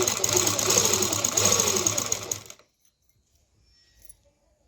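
A simple household sewing machine stitches cord piping, a rattling mechanical whir for about two and a half seconds that stops abruptly, leaving near silence with a faint clink.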